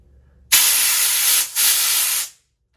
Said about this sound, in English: Then I like to come in with some compressed air